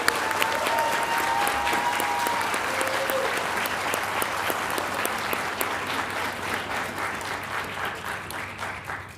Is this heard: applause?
yes